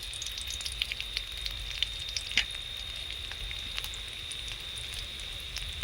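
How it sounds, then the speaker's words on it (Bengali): Whole spices, including panch phoron and cumin seeds, crackle and sizzle in hot oil with fried onions, a fairly quiet steady hiss dotted with small irregular pops, no talking. "ওই তেলের মধ্যে দিয়ে দেব 5 ফোড়ন,"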